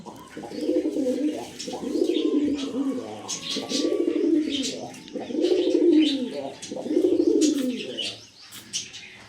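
A pair of pantail pigeons, one white and one black, coo in repeated rolling phrases close by indoors, with faint chirps and a little wing movement around them.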